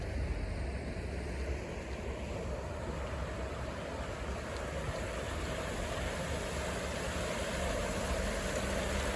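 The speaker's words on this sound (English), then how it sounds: "Nice little brook." A small brook in Plymouth, Massachusetts flows toward the ocean, giving a steady, even broadband rush of water that holds constant throughout, with no talking.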